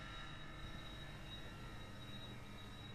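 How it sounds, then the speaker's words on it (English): Air conditioning chillers whistle steadily in the engine room of a Pershing 8X yacht, a constant close-up hum with a thin high tone riding over broadband machinery noise, no voices. "these are the air conditioning chillers. They're whistling away a little bit."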